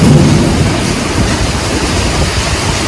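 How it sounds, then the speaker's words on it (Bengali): Heavy evening rain with thunder, a steady loud roar of downpour and low rumbling filling the whole stretch without a break. "ঝমঝমিয়ে বৃষ্টি হচ্ছে"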